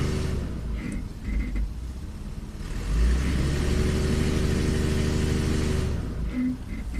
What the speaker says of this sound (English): Alright, so I'm in gear, almost flooring it.